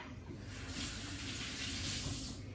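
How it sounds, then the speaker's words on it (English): Kitchen tap running into a sink while hands are washed mid-recipe, a soft steady hiss of flowing water close by, rising slightly and holding for a couple of seconds. "Just going to wash my hand again."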